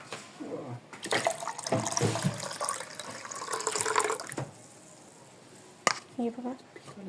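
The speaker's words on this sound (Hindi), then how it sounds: "और इसमें हम लोग डालेंगे 1 कप पानी।" One cup of water pours steadily into a cooking mixture for pani puri. The liquid rushes for several seconds, then pauses before a few short splashes and drips, with a voice talking over the pour.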